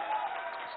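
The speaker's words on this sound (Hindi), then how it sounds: "जो आपकी बात पे ताली बजा रहे हैं, वो बाकी लोगों की बात पे भी ताली बजा रहे हैं" Audience clapping at a political debate in Ludhiana, a brief burst of dense, steady applause from a crowd at close range.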